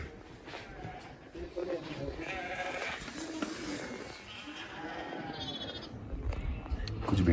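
Sheep bleat near a mountain property at Sissu in the Himalayas, several wavering calls rising over steady wind noise through an open window, with a person talking alongside.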